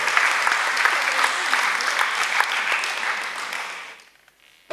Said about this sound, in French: Si vous êtes d'accord, vous pouvez applaudir au fait, vous pouvez le faire.